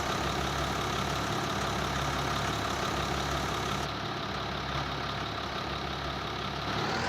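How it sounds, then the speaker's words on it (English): A tractor engine idles in Farming Simulator 19, a steady low rumbling drone with a constant hum that stays even and close throughout, with no talking. "I love the sound of this tractor."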